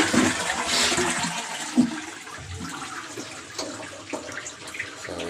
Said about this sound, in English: We're just testing out the flush, making sure it's all functioning.